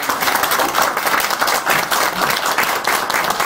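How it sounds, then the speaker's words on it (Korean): Audience applause at a Democratic Party Incheon on-site supreme council meeting, honouring a council member: steady, dense clapping from a crowd at close range, sustained without a break. "박남춘 최고위원에게 뜨거운 박수 한번 보내주십니다"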